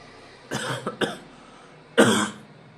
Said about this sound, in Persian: من سرفم گرفت.